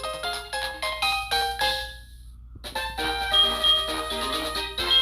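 A trainer's phone call in Pokemon HeartGold rings out as a bright chiming ringtone: a rising sequence of tones, a short pause, then the melody resumes, loud and alone.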